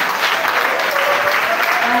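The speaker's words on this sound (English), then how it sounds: "Let's clap for him" A church congregation at an evening Mass at a pilgrimage shrine claps for the main celebrant, steady dense applause filling the space for two seconds, with faint voices mixed in.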